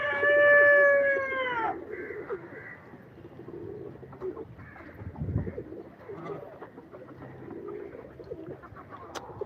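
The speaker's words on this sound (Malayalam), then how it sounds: "പ്രാവ് ജോഡിയവ ഈ കന്യശ്രീയും മുഖിയും കിസ് അടിക്കുന്നുണ്ട്" Soft pigeon cooing murmurs along in the background after a loud bird call at the start, with scattered rustles and faint ambient noise.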